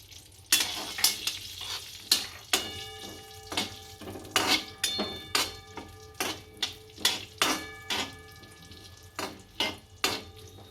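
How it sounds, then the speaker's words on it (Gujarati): Cashews and almonds roasting in hot ghee for a samba kheer, a steady sizzle beneath rhythmic sharp clinks of a metal spoon against the pan, about a dozen strokes, close up with no talking. "આમાં કાજુ બદામ શેકી લેવું હોય"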